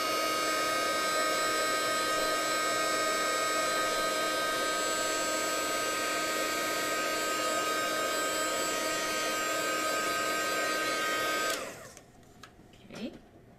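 Steady loud whirring hum of a heat tool reheating silver embossing powder on a paper craft, running continuously for about eleven seconds then cutting off, followed by quiet handling sounds.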